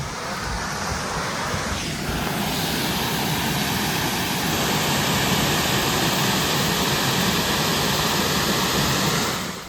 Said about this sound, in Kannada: ಆ ಕಡೆ ನೀರು ಸೌಂಡ್ ಬರ್ತೈತೆ